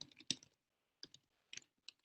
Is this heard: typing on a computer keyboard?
yes